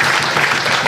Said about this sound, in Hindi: वाह पंडित जी को ताली हो गया